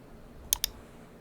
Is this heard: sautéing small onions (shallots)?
no